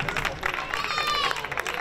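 Audience applause for young players at an end-of-season youth sports trophy ceremony, a steady wash of clapping with crowd murmur sustained throughout.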